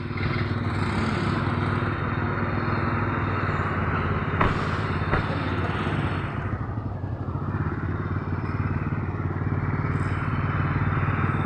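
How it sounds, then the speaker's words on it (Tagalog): A motorcycle engine runs steadily and loudly throughout, close by at a Shell station stop during a Christian riders' fellowship ride to Tagaytay, with a couple of brief thuds partway through. "Yung aking motor."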